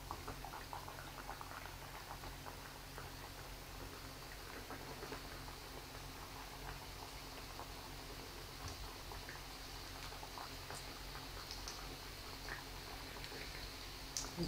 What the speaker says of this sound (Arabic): وهنايا وجدت الزيت في المقلاة راه سخن